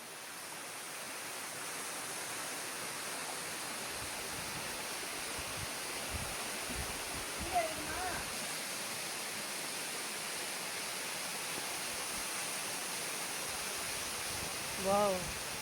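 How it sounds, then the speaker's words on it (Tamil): Water pouring over Mayil Ootru waterfall at Ladapuram, Perambalur, a steady, unbroken rushing roar that fills the whole stretch, with a couple of faint brief sounds over it. "தண்ணி நல்லா வந்துட்டுருக்கு."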